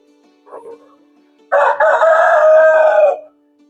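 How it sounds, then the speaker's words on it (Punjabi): On a poultry farm holding heavy roosters of about three kilograms, a short cluck is followed by one long, loud, close rooster crow that holds for almost two seconds. "ਤੇ ਮੁਰਗੇ ਸਾਰੇ ਹੀ ਹੁਣ ਵਾਂਗਾ ਵੀ ਦੇਣ ਲੱਗ ਪਏ"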